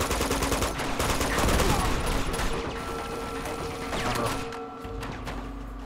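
Rapid bursts of machine gun fire and gunshots in the video game Uncharted: Among Thieves, dense and loud in fast rattling volleys, easing near the end.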